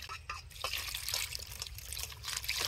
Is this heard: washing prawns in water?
yes